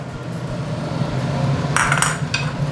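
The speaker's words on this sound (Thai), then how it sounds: "เราจะผัดพริกแกงกับน้ำมันเล็กน้อยนะครับ" Red curry paste stir-fried in a little oil in a pot for a Thai pork rib curry, a steady low sizzle under metal utensil scrapes and clinks against the pot, with a brighter burst of clatter midway.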